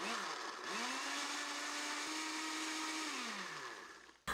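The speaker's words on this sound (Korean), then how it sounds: "이번에는 다시마는 빼고 갈아줄게요." A kitchen blender purees cooked beef and broth into baby food, a loud, steady whirring grind close up that starts, holds for about three seconds, then winds down and cuts off, with no talking.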